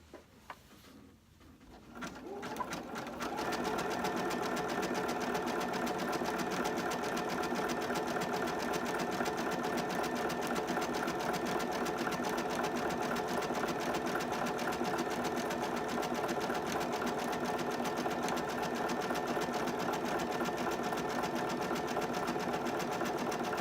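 A sewing machine starts after a few quiet seconds, then runs continuously zigzag stitching applique onto a dog blanket, with a steady, fast mechanical whir and rapid needle rhythm, close and alone.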